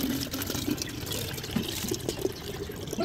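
Water gushes steadily into a large tank, a constant broadband rush of filling water with faint splashes running on throughout, close and fairly loud with no talking.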